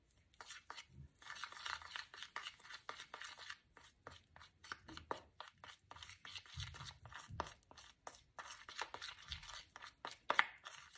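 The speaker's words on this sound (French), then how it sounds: "Maintenant, nous allons bien mélanger le tout." A teaspoon stirs a turmeric face mask mixture in a small bowl, making rapid, repeated soft clinks and scraping strokes in an uneven rhythm, close up but faint, with no voices.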